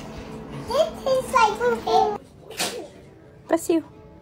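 A voice babbles and chatters, followed by a quick sharp sneeze, then a couple of short high vocal bursts.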